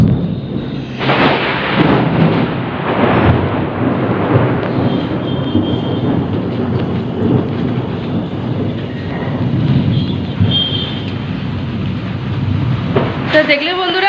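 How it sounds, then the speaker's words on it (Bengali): A thunderstorm with heavy rumbling thunder and strong gusting wind, a loud continuous roar with surges and crashes throughout. "বাইরে ভীষণ ঝড় হচ্ছে, ঝোড়ো হাওয়া দিচ্ছে"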